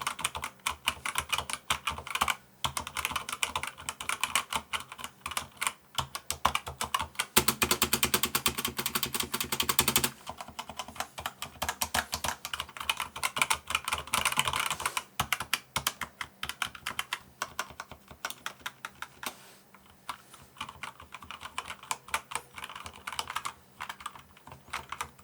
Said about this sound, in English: The Razer Blackwidow V3 Mini Hyperspeed is nice to type on.